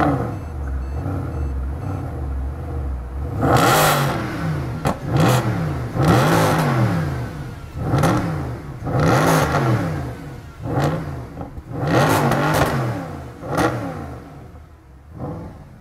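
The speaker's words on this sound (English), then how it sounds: "Loud exhaust." Mercedes SLS AMG Gullwing V8 revved hard in repeated loud bursts, each blip of the throttle rising and falling with a booming exhaust note, close by and standing alone with no talk.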